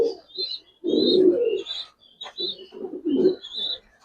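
Pigeons at a farm keeping Giribaz racer and fancy breeds coo repeatedly in close, throaty bursts with brief gaps, higher chirps mixed in, and no speech over them.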